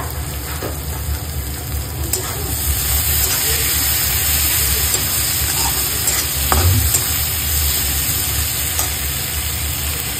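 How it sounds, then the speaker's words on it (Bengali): Chopped onions and tomatoes sizzle and fry in a pan while being stirred, with a steady dense hiss throughout and occasional soft scrapes, no talking. "এখানে ভালো করে পেঁয়াজকে কষানো হয়েছে, এখানে কুচি কুচি করে কাটা টমেটো দেওয়া হয়েছে"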